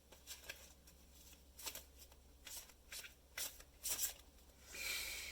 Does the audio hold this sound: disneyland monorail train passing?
no